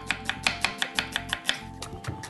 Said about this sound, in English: So just cut them in half and then just slice them as thinly as you can.